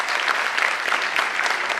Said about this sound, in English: who also deserves a big round of applause